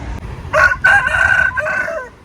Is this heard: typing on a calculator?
no